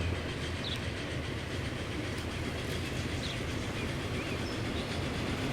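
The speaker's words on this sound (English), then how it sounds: "So they still get a steam train. They don't get the brand new electric train. But let's ride on." A steam train from Transport Fever 2 rolls steadily along rails, a continuous low rumble with faint clickety-clack of wheels throughout, moderately loud and with no voices.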